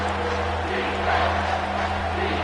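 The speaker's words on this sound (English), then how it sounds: "The crowd getting behind this defense as they try to get a stop in the red zone" A football stadium crowd roars steadily behind the defense during a red-zone stand, a dense, continuous wall of cheering and noise with a low hum underneath.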